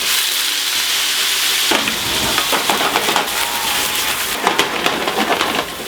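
Meat sizzles steadily as it browns lightly on both sides in a frying pan, a loud continuous frying hiss with crackles and occasional stirring or turning noises.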